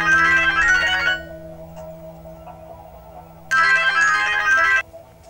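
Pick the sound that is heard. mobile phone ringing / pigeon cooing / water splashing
mobile phone ringing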